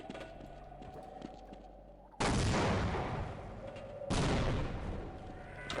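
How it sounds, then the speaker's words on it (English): A grenade going off in Half-Life, with two loud, broad blasts about two seconds apart, each cutting in sharply and decaying slowly over a low rumbling game background. "I guess I can try to use a grenade."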